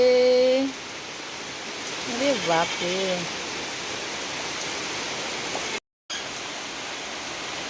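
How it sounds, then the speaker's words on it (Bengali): Steady rain pours in a broad even hiss over several seconds, with a person's brief exclamation near the start. "মেঘ ডাকছে বৃষ্টি পড়ছে"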